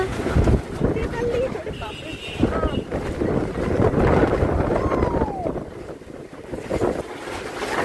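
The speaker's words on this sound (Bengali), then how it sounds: "প্রচন্ড ঝড় বৃষ্টি শুরু হয়েছে" Strong stormy wind buffets the microphone on Puri sea beach as a storm with rain sets in, with waves and surf roaring beneath, loud and continuous, while people talk over it.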